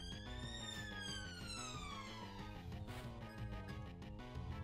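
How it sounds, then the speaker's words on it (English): A police car siren wails loudly with a sweeping, gradually descending tone as it passes, steady and continuous under a layer of other sound. "There's a police car going by."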